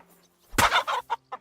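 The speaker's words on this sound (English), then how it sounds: "Pay no attention to the man beating the chickens in the chicken coop." Chickens in a coop in Kingdom Come: Deliverance II let out a sudden loud squawk, then a few short, sharp clucks spaced apart, close and clear with no talking.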